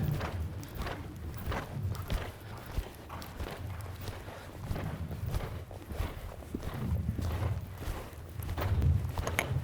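A horse's hooves clip-clop in a steady walking rhythm during a warm-up at an equestrian masterclass, with the horse noted as stiff on its right side; the footfalls sound close and continuous and no voices are heard.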